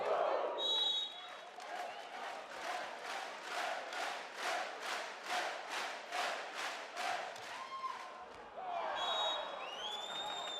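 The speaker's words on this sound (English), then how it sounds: "Crowd desperately trying to ramp up their team to get across this fourth set finish line." A crowd at a CEV Champions League volleyball match in an indoor arena claps and chants in a steady rhythm of loud pulses, with a commentator talking over it.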